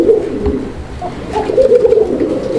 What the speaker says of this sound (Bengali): ডাকটা আপনারা শুনছেন একটু, তো যারা নিতে চান কোকা কবুতর, গোবিন্দ কোকা